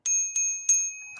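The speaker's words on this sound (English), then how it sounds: "Comes with a bell." Three quick rings from the bell on a Troxus step-through e-bike, close and bright with a short ringing decay, followed by a fainter fourth tap.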